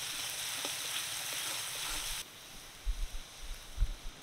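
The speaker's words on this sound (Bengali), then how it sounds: "দুই থেকে 3 মিনিট তেলের মধ্যে পেঁয়াজটা ভালো করে ভেজে নেব।" Chopped onion frying in oil gives a broad, even hiss that cuts off halfway through, leaving a quieter background broken by a few low, dull knocks.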